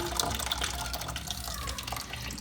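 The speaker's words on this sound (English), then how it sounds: "there goes all the water out of the tank." Water gushes and gurgles steadily as it drains out of a toilet tank, close by and continuous, with no voices over it.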